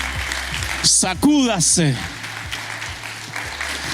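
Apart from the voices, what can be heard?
church congregation applause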